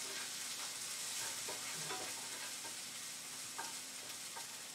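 Spatula stirring ground sausage and onions frying in a pan, a steady close sizzle with scraping strokes and light clicks of the utensil against the pan bottom.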